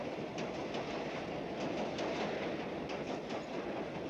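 An elevated New York metro train on the L rolls past with a steady rumbling roar and rhythmic clicking of wheels on rail joints.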